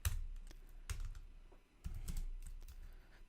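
Quiet keystrokes on a computer keyboard, a few irregular taps and short bursts spread across a few seconds, close by with no talking.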